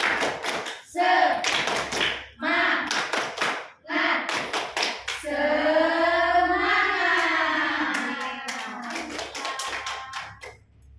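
Classroom students do the tepuk semangat rhythmic cheer clap in a microteaching session, sharp grouped claps in a set pattern broken by a sustained chanted shout, with voices joining the rhythm throughout.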